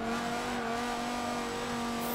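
A car engine in Forza 7 revs steadily with sustained tonal whine during a Road Atlanta club race in a B-class limo, held loud and constant throughout with no pauses.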